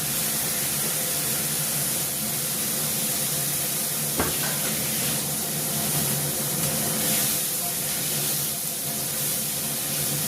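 A paste of ginger, garlic, onion, cumin powder and chilli powder frying with potatoes in a pan, giving a steady, dense sizzle throughout, with a single sharp utensil knock partway through.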